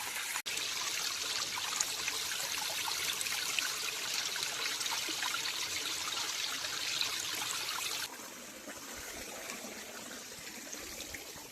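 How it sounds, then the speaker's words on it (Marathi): Steady trickling water runs continuously, like a small stream in a channel, with a slight drop in level partway through and no voices. "पाकाडीला पाणी आलंय बघा"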